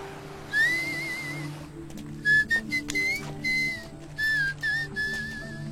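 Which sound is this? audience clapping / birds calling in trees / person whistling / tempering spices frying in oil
person whistling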